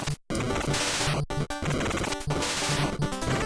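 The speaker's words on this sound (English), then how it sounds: "they use, you know, those space like explosion sounds and stuff when you hit the ball" Harsh, clattering space-style explosion effects burst out over and over at kicks in a soccer video game, loud and dense, with brief dropouts between bursts.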